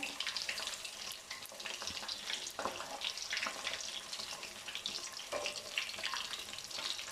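Fish frying in a pan over a low flame, a dense continuous crackling sizzle with faint stirring scrapes, moderately quiet and steady, no voices.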